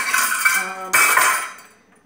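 Metal kitchen utensils clink and clatter as they're set down twice on a hard surface, bright ringing that fades to quiet.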